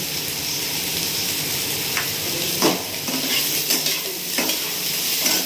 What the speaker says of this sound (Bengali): তো সয়াবিনটা আমি ভেজে তুলে নেব।